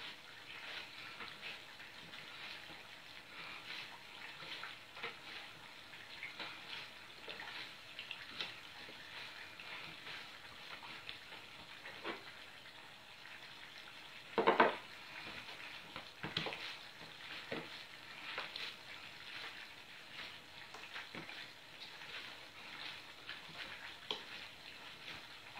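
Dough being kneaded by hand as oil is worked in, giving soft wet squelching and slapping in an irregular rhythm, close and fairly quiet, with one louder burst midway.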